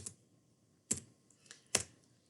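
A folio number is keyed in on a computer keyboard: a few sharp, quiet keystrokes spaced apart, the clearest two striking crisply in an otherwise quiet room.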